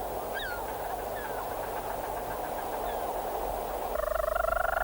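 Leach's petrels call from a burrow on St Kilda. Soft chirping notes come first over a steady background hiss, then a louder, rapid, rhythmic churring call starts near the end.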